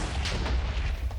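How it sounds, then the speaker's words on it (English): A big TNT blast in Minecraft sounds as a dense, loud, rumbling roar of explosions sustained for over a second, heavy in the low end, with no one talking. "Nice big explosion."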